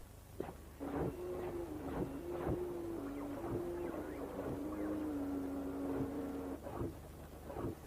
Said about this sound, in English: their mechanical movements and operating sounds.